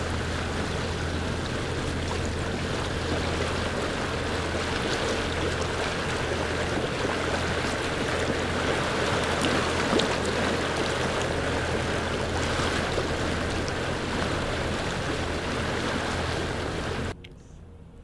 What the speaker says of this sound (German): plätschert nun das Wasser gegen die Außenhülle